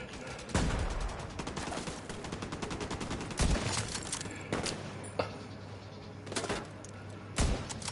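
Gunfire in the video game The Division 2: sharp, loud shots crack out in separate bursts and single reports over a dense background of rattling fire and clatter.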